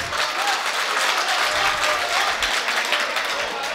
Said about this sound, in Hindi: एक बार जोर से ताली बजाओ फिर